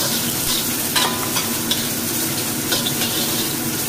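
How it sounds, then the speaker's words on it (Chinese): Minced garlic and red pepper hit a hot pan with sirloin strips and mushrooms, giving a dense, loud sizzle with intermittent scraping stir-fry strokes, close up and without speech. "可以放啲蒜蓉同埋一啲紅椒落去啊"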